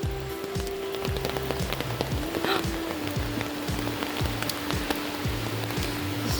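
Steady rain falling on a rainy day in Olympic National Park, a constant dense hiss of drops, heard alongside a repeating rhythmic music beat with a low pulsing bassline throughout.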